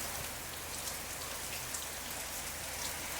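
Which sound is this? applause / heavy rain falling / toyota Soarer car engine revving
heavy rain falling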